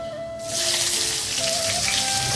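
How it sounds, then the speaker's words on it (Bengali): Cumin seeds and chopped onion hit a hot pan where pumpkin is frying, bursting into a loud, close, steady hiss of frying that carries on without talk. "গোটা জিরে দিয়ে দিলাম, কেটে রাখা পেঁয়াজটাও দিয়ে দিলাম"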